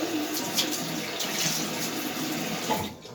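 Water runs steadily from a tap, rinsing something away in a sink. A continuous near splash and hiss fades out at the very end.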